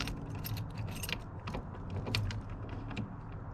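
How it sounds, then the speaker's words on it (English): Car key sliding into the ignition of a VW Bug, heard as close metallic jingling and scraping clicks over a steady low rumble, with several short rattling bursts. "Let's put the key in."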